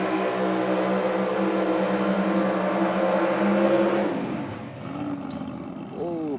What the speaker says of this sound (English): Big, strong burnout.